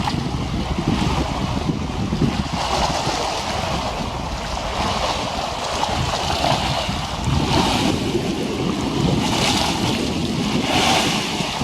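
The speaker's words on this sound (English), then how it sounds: "you should be able to hear the lapping of the waves against" Waves lap steadily against the foreshore in a windy outdoor spot, a loud continuous wash of surf with gusts rumbling through it.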